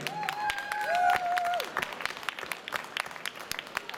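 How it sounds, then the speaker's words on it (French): An audience applauds at the closing night of the Casetas de Pau 2013 festival, a dense, steady wash of clapping with a few whistles rising over it early on, then thinning into scattered claps. "je vous demande d'applaudir bien fort monsieur Christian Lafitte"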